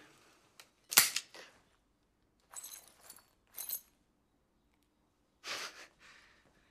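A handgun in a film fired with no bullets in it gives a sharp snap near the 1 s mark, followed by a few softer metallic clicks and rattles, all heard up close with no talking.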